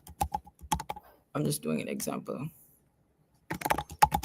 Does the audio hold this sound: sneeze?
no